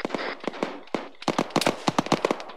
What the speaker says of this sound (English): Cannon to your west.